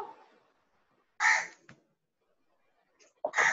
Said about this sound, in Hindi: कौआ है क्या तुम्हारे घर पास?